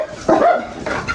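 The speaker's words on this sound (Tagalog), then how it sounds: "Tatapang ng mga aso namin." A dog gives a single sharp, close bark followed by a shorter yip a moment later.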